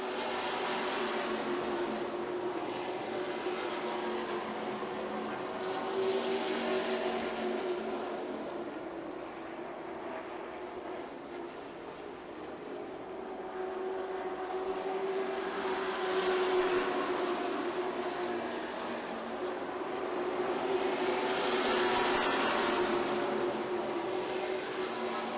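Late model race cars running side by side through turns three and four at Music City Motorplex in Nashville, engine roar swelling and fading as they pass, steady and moderately distant.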